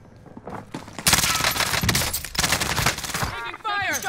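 Rapid bursts of automatic gunfire from a multiplayer shooter game, loud and dense, overlapping with scattered effects and brief background voices.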